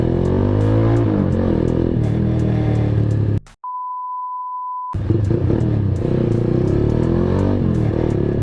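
A Kawasaki Z200 motorcycle fitted with an SC Project exhaust revs up close and loud in a raspy, rising drone. A long steady electronic beep cuts in midway before the engine sound returns.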